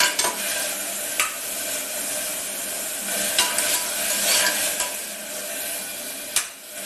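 Manathakkali greens sauté with onion and garlic in coconut oil, a steady close sizzle and crackle broken by several sharp scrapes of a spoon stirring against the pan.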